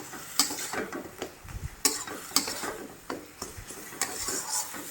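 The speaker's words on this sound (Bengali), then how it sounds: "পাতার বাটাটা দিয়ে কড়াইতে ভালো করে ভেজে একদম ঝরঝরা করে ভেজে নেব।" Bottle gourd leaf paste frying in a kadai with salt added, stirred steadily so a spatula scrapes and clinks against the metal at irregular intervals over a soft, continuous sizzle, close up with no talking.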